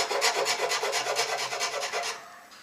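A hand file rasps across a wenge wood guitar body in a quick, even series of about a dozen scraping strokes, close and fairly quiet, fading out at the end.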